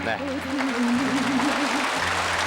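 An audience at a 1983 televised broadcast reuniting separated families breaks into sustained applause, heard under a voice and with music playing.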